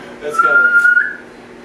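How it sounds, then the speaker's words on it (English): A person whistles by sucking air inward, producing a single steady, fairly loud note that holds for under a second before fading into quiet room tone. "I can't even whistle with my mouth, so. I have to suck in the whistle."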